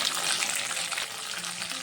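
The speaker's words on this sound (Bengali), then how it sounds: "মশলাটা ভালো করে ভেজে নেব" Tomato and spice masala with ginger, green chilli paste and cumin powder sizzles and hisses steadily in a pan, a close, dense frying crackle without pause.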